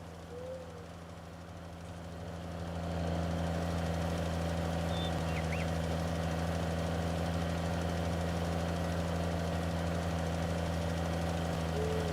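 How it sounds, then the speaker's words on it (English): A tractor engine in the farming video game Farming Simulator 19 runs steadily throughout, a low, even droning hum that swells slightly in the first few seconds and then holds constant, with no one speaking. "The tractor you guys helped me pick out."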